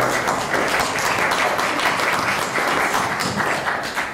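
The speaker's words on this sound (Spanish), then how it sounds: "un aplauso para Lisa" An audience at an academic talk applauds, a steady even wash of clapping that fills the whole moment at moderate loudness.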